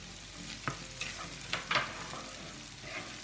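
Ginger, onion and garlic fry in a pan, a steady soft sizzle broken by a few spatula scrapes and clicks as they are stirred, close but fairly quiet.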